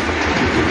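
A GO commuter train in Canada rushes past close by, a loud, dense roar of wheels and rail noise filling the brief moment.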